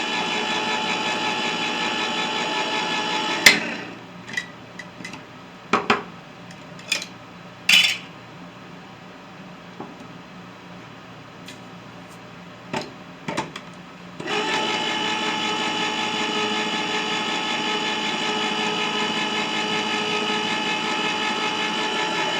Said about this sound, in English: I'm going to open it with the can opener first